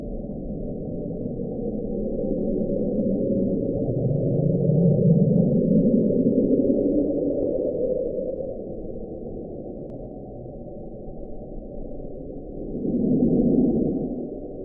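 The Bloop, a mysterious and extremely loud underwater ocean sound, comes through as a continuous low rumbling drone that swells and fades, with a louder rise in the middle and another near the end, heard alone.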